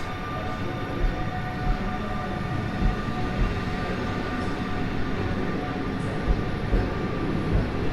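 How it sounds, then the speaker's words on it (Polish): A TLK Lubomirski passenger train pulling out of Kraków Główny station, a loud continuous rumble of wheels and engine with a faint high whine above it and occasional rail knocks. "Pociąg TLK Lubomirski. Punktualny odjazd."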